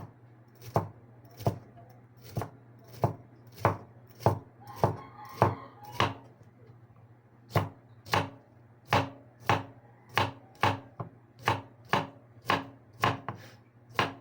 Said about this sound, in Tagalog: Kailangan lang maliit lang hiwa natin mga lods.